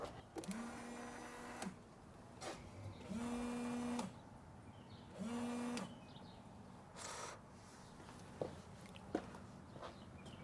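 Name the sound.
Toyota RAV4 rear washer sprayer running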